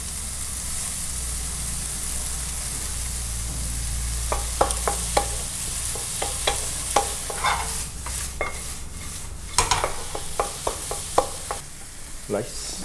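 Red pepper stir-fried in a pan for lobster pineapple fried rice: a steady sizzle with a run of sharp, quick spatula scrapes and clacks that grows busier partway through, close and with no talking.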